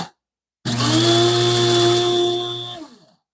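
Electric coffee grinder whirring through coffee beans, one loud, steady high-pitched motor burst of about two seconds that cuts off and winds down, with silence before and after.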